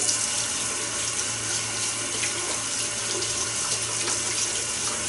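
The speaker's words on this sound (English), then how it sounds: "I'm going to go ahead and rinse off my brush" A shaving brush is rinsed under a running tap, giving a steady, fairly loud hiss of flowing water into a sink that continues without break.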